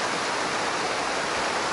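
Water in a creek with moss-covered rocks rushes over the stones in the woods, a steady broadband gurgle that stays close and even throughout, with no voices.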